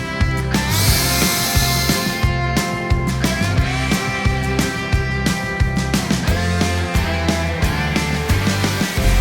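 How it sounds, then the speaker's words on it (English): A power tool driving a jack to raise a truck camper, a loud grinding whir with a rapid regular pulsing rhythm that runs throughout, close and alone. "I never pass up an opportunity to use a power tool."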